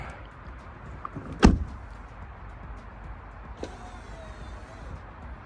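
Pickup truck door fitted with Amp Research power steps: a sharp close thud of the door opening, then a faint whirring hum as the running board motor deploys, with quiet background noise.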